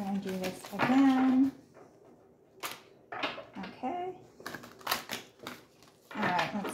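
Rapid papery riffling and clicking in several bursts as an oracle card deck is shuffled, close by, with a voice murmuring in between.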